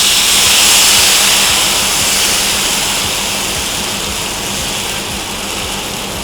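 Rava dosa batter poured onto a hot griddle sets off a loud, continuous hissing sizzle that starts strong and slowly eases, with no talking over it.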